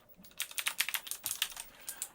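Fingers type steadily on an external keyboard for a new iMac 24, a quick run of close, crisp key clicks with brief pauses and no talking.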